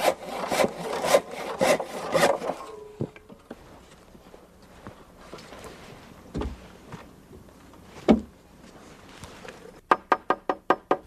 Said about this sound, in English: And finish the cuts with a handsaw.